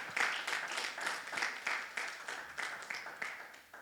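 Church congregation applauding and cheering as a pastor enters, a steady wash of clapping with rhythmic swells, moderately distant and not very loud, with no clear talk over it.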